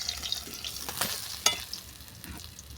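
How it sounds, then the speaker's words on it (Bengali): Sun-dried lentil dumplings (bori) fry in hot oil with a soft, steady sizzle, broken by a few sharp clinks and scrapes of a utensil against the pan. "এই তেলেই বড়িগুলোকে ভেজে নেব।"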